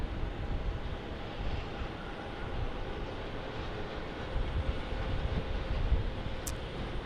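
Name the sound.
small Cessna business jet at Dallas Love Field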